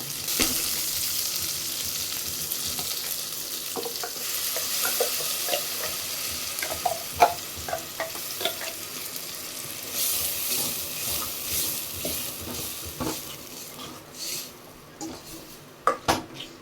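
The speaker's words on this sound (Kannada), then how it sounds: "ಮಸಾಲೆ ಚೆನ್ನಾಗಿ ಎಣ್ಣೆಯಲ್ಲಿ ಹುರ್ಕೋಬೇಕು ಹಸಿ ವಾಸನೆ ಎಲ್ಲ ಹೋಗೋವರೆಗೂ" Ground sambar masala fries in oil with a continuous sizzle while a spoon stirs and scrapes against the pot, giving a steady run of clinks and knocks.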